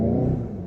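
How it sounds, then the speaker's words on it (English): A 2019 VW Golf GTI engine holds elevated revs with the brake held before a launch control start, a close, loud steady drone that eases slightly toward the end. "left foot on the brake, build up the revs"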